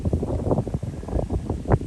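Strong wind gusts buffeting the microphone, loud low rumbling that rises and falls in rapid irregular bursts, no voices.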